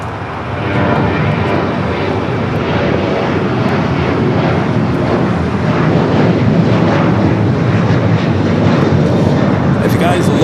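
Jet airliner taking off from runway 25 right at LAX, a steady broad engine roar that builds early and holds loud through the whole stretch, with wind buffeting the microphone.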